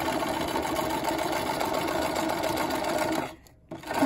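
A sewing machine stitches a design steadily with a fast mechanical whir, loud and close, pausing briefly near the end before resuming, no talk.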